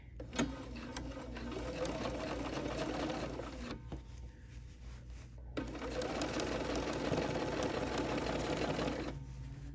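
A Bernina sewing machine stitches steadily through a plush teddy bear's head, running in two long whirring bursts with a brief pause between, close and even.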